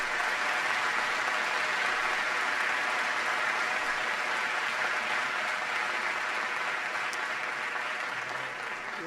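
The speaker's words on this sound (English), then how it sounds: "Please give Celeste a big round of applause." A large town hall audience gives Celeste a long round of applause, a dense, even roar of many hands clapping at high volume for over nine seconds, tapering slightly at the very end.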